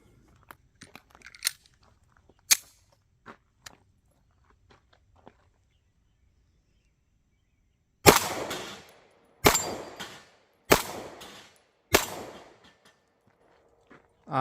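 Five sharp metallic rings of Ruger Max-9 9mm pistol rounds striking steel plates at 15 yards, loud and evenly spaced about a second apart, following a stretch of faint scattered clicks and handling noise.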